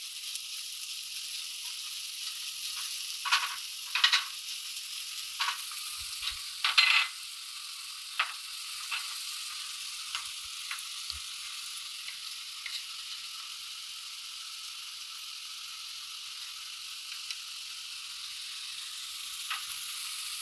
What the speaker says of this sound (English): So my butter is nice and hot, ready for fry. I add my onions.